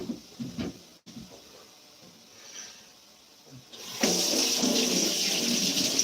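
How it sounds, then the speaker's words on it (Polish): Water poured into a pot of cake batter for a Karpatka cake, a steady hissing pour starting partway through after quieter kitchen handling sounds, close and fairly loud. "i teraz to zalewam wodą"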